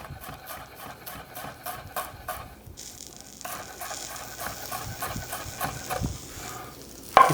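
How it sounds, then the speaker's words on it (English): Curly parsley is bunched by hand and chopped with a knife for an asparagus orzo salad, giving a quick run of close, crisp blade taps that break into a denser scraping patter and end in one sharper knock. "I'm just going to bunch this up in my hands and run my knife through it"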